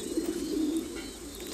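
Pigeons coo steadily at a pigeon farm, a soft, rolling low warble that carries on throughout at moderate volume with no talking.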